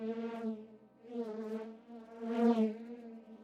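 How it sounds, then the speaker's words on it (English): A sound-designed bee swarm, built from a filtered single bee recording layered into many ensemble voices, gives a droning, harmonic buzz that swells and fades in three waves, close and alone. "The first layer is just a filtered version of the individual bee sound, with an ensemble set to 16 voices to blend in with the rest of the swarm."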